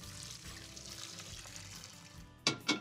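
Cold water running from a kitchen sink tap: a faint, steady hiss of flowing water close by, ended by two sharp clunks.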